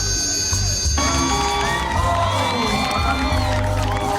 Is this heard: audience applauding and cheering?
yes